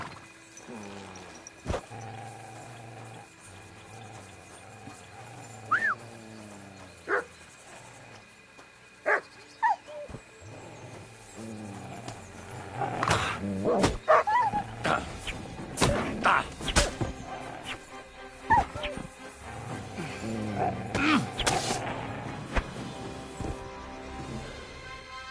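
Dogs bark and snarl in a medieval video game, the calls coming in scattered bursts that grow louder and denser toward the end, mixed with game ambience.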